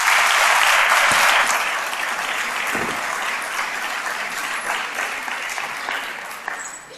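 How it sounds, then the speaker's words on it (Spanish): An audience at a talk applauds, starting with a loud burst of clapping that eases into steadier, thinner applause and fades toward the end. "un aplauso muy fuerte a don Antonio."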